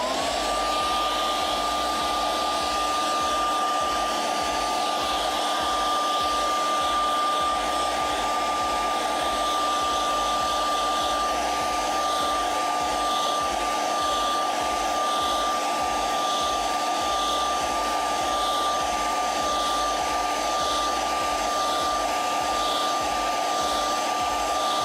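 A hair dryer blows steadily and loudly without pause, drying glue on a handmade craft puppet, its even whooshing hum with a constant whine holding for the whole stretch.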